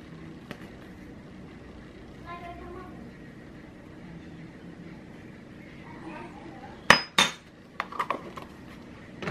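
A metal spoon clinks against pans in a home kitchen while a balti chicken is cooked, a few sharp clatters and rattles near the end after a quiet stretch, with someone speaking at times.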